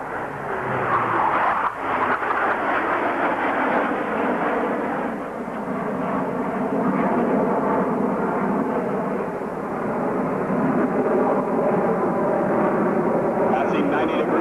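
The Blue Angels jet formation roars overhead at the 1987 Carswell Air Force Base airshow. A loud, continuous rumbling jet roar swells and holds for the whole stretch, with an announcer talking over it.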